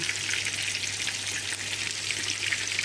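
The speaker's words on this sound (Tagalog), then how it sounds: "hintayin ko lang na mag-init yung oil" Cooking oil heats in a pot, giving a steady, soft hiss and crackle of sizzling throughout, with no one talking.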